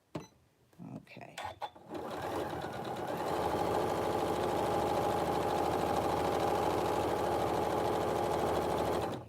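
A sewing machine with tension problems stitches a fabric face mask in a fast, steady, close whir after a few soft clicks and handling sounds, with a voice talking briefly at the start.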